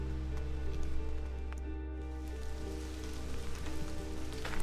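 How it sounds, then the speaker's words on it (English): Rain falls at a fishing camp on a carp trip, a steady patter on a surface with scattered close drops that holds for several seconds with no one speaking. "hopefully the rain's going to pass shortly."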